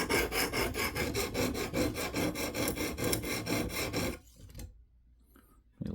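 A knife blade is stroked across a 100 grit stone on a KME sharpener in quick, regular rasping passes, about a dozen close scrapes, then a pause into near silence.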